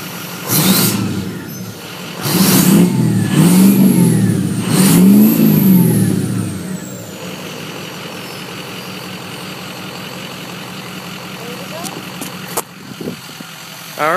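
A diesel truck with a new exhaust is revved close up in three strong blips in the first seven seconds, then settles into a steady, throbbing idle, with a brief clatter near the end.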